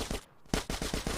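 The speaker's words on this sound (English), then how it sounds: "we slide with an AK here" AK rifle firing in Grand Theft Auto: San Andreas, a rapid run of loud, close automatic bursts after a brief quiet gap, each shot evenly spaced in a steady rhythm.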